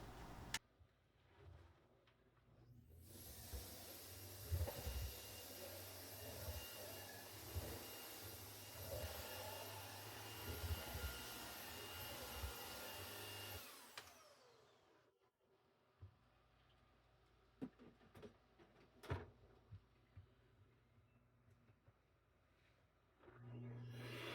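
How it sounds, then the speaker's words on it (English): A vacuum cleaner whirs steadily on an entryway rug for about ten seconds, then shuts off, followed by scattered clicks and light handling noises. "I'm gonna vacuum it up real quick and call it good"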